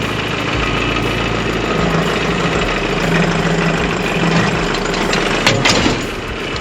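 A tractor engine idles steadily and close while its hydraulics unfold a hay baler for pressing meadow hay, with a low constant rumble, faint whine and a brief knock near the end, no talk.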